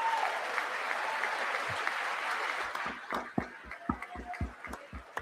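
Applause at the State of the Union, a dense sustained ovation from a large chamber crowd that thins into scattered individual claps near the end.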